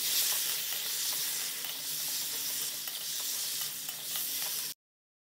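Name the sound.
spice paste frying in oil on low heat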